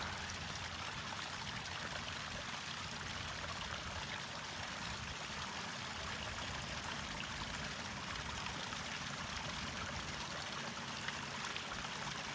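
Steady broadband rush of water running down a desert flood channel after rain, continuous and fairly close with no talk over it.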